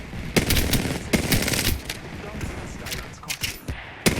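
Rapid automatic gunfire in the Apex Legends battle royale game comes in several sharp, loud bursts with shorter pops and brief gaps between them, and the shots carry on to the end.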